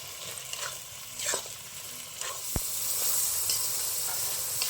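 Spice masala with Kashmiri chilli powder sautés in oil for egg biryani, making a steady close sizzle and hiss. A few spatula scrapes and a sharp knock cut through, and the hiss swells toward the end.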